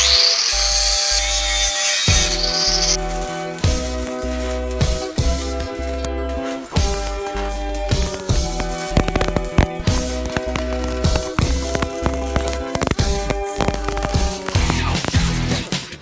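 A power tool cuts a steel bar for a homemade mini buggy or cross-kart chassis in a workshop: a loud, steady high-pitched whine with tonal harmonics runs almost nonstop, dipping briefly between passes.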